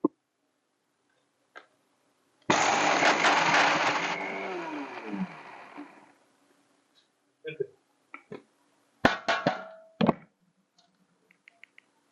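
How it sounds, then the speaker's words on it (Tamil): A mixer grinder powders roasted chana dal, asafoetida, coriander and chillies in a short whirring burst of a few seconds that winds down, followed by a few clunks and taps of the jar. "இந்த கடலைப்பருப்பு பெருங்காயம் மல்லி மிளகாய் எல்லாம் வறுத்ததை இதை பொடி பண்ணிக்கிறேன்"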